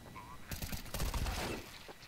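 Gunfire in Counter-Strike 2, a rapid burst of shots starting abruptly and rattling for about a second, fairly close but at modest volume, with faint voices in the background.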